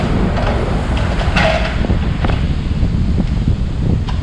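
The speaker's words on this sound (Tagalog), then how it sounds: "medyo malakas ang hangin ngayon" Strong wind roars and buffets the microphone in a constant rushing gust at Rizal Park, Manila, with no voices.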